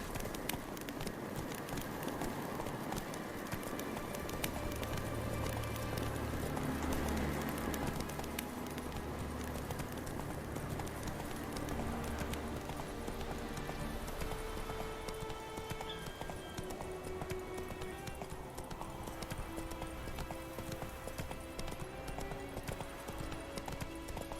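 Roach the horse galloping in The Witcher 3, a steady stream of hooves clip-clopping across the whole stretch, mixed with background game music and ambience.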